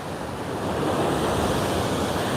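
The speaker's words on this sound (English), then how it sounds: "I'm not trying to discount these waves, but these are not the big ones" Ocean waves break against the rocky Hawaii coastline, a loud, continuous roar of surf that builds and holds, with wind rushing across the microphone.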